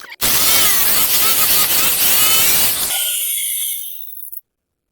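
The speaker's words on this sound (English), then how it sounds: "I didn't think the inverter powered the jigsaw." Jigsaw cutting wood on a driveway while running from an inverter, a loud continuous rasping buzz for a few seconds that cuts off and winds down to a fading whine.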